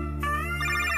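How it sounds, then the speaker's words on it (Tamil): A phone ringtone sounds for an incoming call, a bright electronic melody that starts abruptly and shifts to a higher repeating pattern partway through, loud and close over a steady background hum. "அக்கா மறுபடியும் அவர் தான் கால் பண்றாரு."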